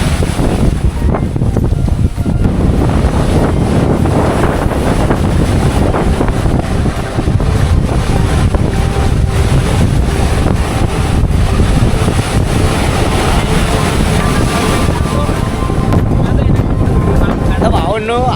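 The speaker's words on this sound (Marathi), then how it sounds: "पण क्या लाटा आहे यार" Sea waves at Daman beach make a loud, constant wash and roar, buffeted by heavy wind noise on the microphone, while people talk over it throughout.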